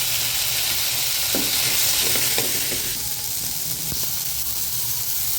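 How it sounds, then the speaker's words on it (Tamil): Manathakkali greens sizzle steadily as they are sautéed in a hot pan with tomato, salt and turmeric, with a continuous frying hiss and a few soft stirring clicks, no voices. "கீரையை போட்டு அப்படியே வதக்கி விடலாம்"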